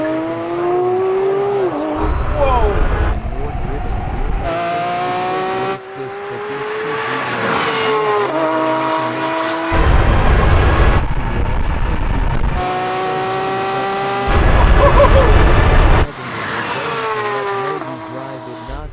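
A Porsche 911 GT3 RS launches in a drag race with some wheel spin, its engine revving up and shifting repeatedly in loud, rising sweeps separated by short pauses.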